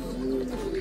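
A single pigeon gives a soft, low coo lasting under a second, close and fairly quiet.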